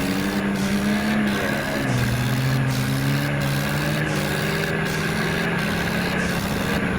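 A tractor engine drones steadily while ploughing a field, a loud continuous low hum with a slight drop in pitch partway through and no voices.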